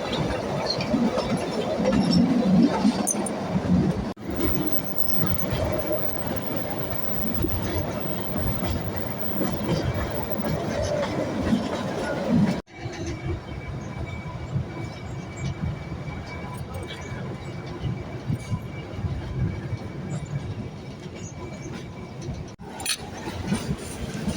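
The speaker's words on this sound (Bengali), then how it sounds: "পুরো রাস্তাটা টয় ট্রেন যে যাচ্ছে" The Shimla toy train runs along its hill route with a steady rumbling, rattling roll that continues throughout, while voices talk nearby.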